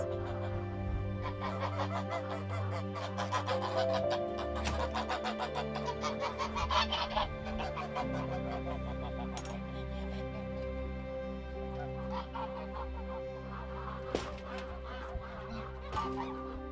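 Farm fowl honking and clucking continuously, with geese most prominent among chickens, a busy overlapping chorus at moderate distance with no talk.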